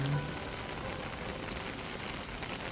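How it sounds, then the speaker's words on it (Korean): Steady rain falling and pattering on surfaces during a walk home, a continuous even hiss heard close by with no voices. "빗소리 들으며 집으로 가는 모습입니다"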